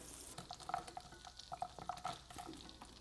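Butter sizzles in a frying pan with soft, faint crackling, mixed with clinks and stirring of a utensil against the pan in short irregular bursts, with no voices.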